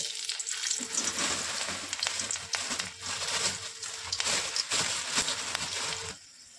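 Crushed garlic frying in hot ghee, a steady broadband sizzle with crackling bursts that runs for several seconds and then cuts out near the end; no voices.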